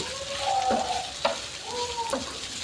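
Onions fry in a pan (kadai), a soft continuous sizzle with a few spatula scrapes and stirring clinks, fairly quiet.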